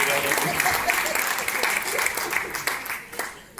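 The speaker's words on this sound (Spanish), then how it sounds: "Quiere otro aplauso." A church congregation claps in a dense, steady burst that carries on for a few seconds before thinning out.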